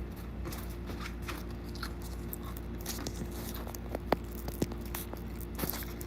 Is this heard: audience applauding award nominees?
no